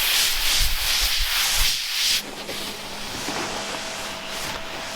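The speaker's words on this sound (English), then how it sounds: "Cody's just about got all the hand sanding on that side done" Hand sanding on a painted car body panel, a steady close abrasive rubbing hiss for about two seconds, then lighter scuffing strokes over a faint background hum, with no voices.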